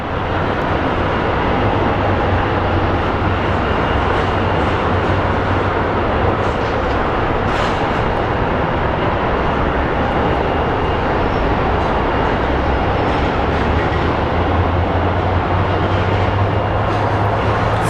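An international airliner roars at Phoenix Sky Harbor airport, a loud steady broadband engine rumble that fills the whole stretch without letting up, with no voices.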